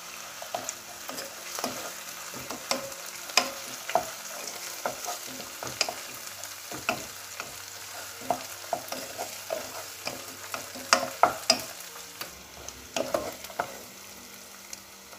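Ginger garlic paste sizzles in hot oil for a mutton methi curry, with a spoon stirring and scraping the pan in steady, close, repeated strokes.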